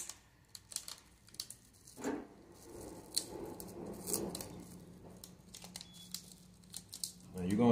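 A liquid soap bottle is wrapped in bubble-free packing material for shipping, giving close crinkling, rustling and squishing with sharp crackles scattered throughout, while someone talks over it.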